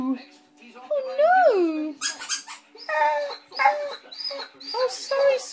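A Soft Coated Wheaten terrier plays with a squeaky toy, producing rising squeaks and whimper-like whines followed by several short crackly squeaks, close by, with a person talking softly over it.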